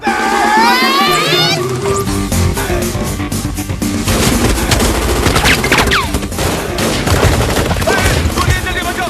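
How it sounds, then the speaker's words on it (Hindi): Loud, continuous gunfire rattles in dense bursts, like a rapid fusillade, mixed with music and shouting voices in a chaotic comic film scene. "गोलियां चल रही है"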